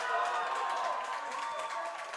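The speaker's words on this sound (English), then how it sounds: "Crowd showing their love again as Acuña steps out on the court" A spectator crowd at a men's singles racquetball quarterfinal of the 2017 Pan Am Championships applauding and cheering as a player steps onto the court, a steady, faint wash of clapping lasting a couple of seconds.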